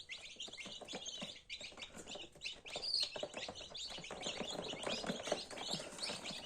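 Many small newly hatched incubator chicks, black-and-white, peep and chirp busily at once, a dense, high-pitched chorus that stays steady throughout.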